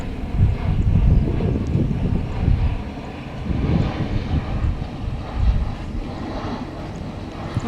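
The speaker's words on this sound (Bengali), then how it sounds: "ওই যে প্লেন উড়ে যাচ্ছে।" A fixed-wing airplane drones overhead outdoors on a very windy day, a steady low rumble mixed with gusty wind buffeting the microphone, with no voices.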